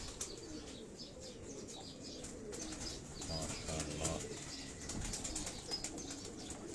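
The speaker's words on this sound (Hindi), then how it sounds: "अब इस कबूतर को आप देखें" A pigeon on a rooftop gives soft, low coos amid brief wing flaps and faint chirps from other birds, quiet and close.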